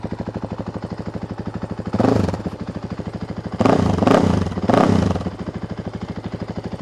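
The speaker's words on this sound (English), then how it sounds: "Oh, she's rumbling." A 2024 KTM EXC-F 500 dirt bike with an FMF muffler idles with a steady low thumping rumble, revving up loudly in three short bursts before settling back to idle.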